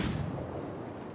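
Warship guns firing in the naval video game World of Warships: a single heavy boom at the start that rolls into a long fading rumble, close and loud.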